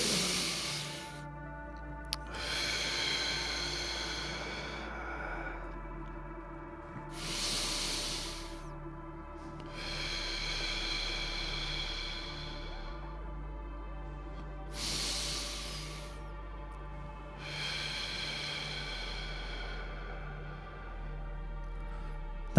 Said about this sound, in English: let's take 3 nice deep breaths in through our nose, hold for a moment, and exhale through our mouth